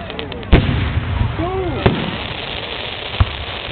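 Fourth of July fireworks at Bennington in 2011 burst outdoors with several sharp booming thumps and crackles, heard at a distance amid steady crowd murmur, with a whistling rocket rising midway.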